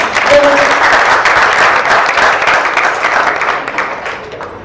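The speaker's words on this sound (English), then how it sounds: "A round of applause for Charlie, please." Audience applause at a workshop, a steady room-filling wash of many hands clapping that holds strong for several seconds before gradually thinning toward the end.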